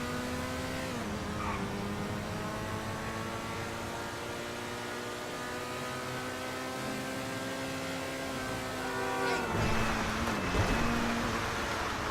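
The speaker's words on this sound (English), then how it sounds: "I'm going to shut up for a little bit, and you guys can just hear that engine go." Progen Itali GTB supercar engine revving in Grand Theft Auto, a sustained harmonic drone climbing steadily in pitch, then a gear change and a louder, rougher surge near the end.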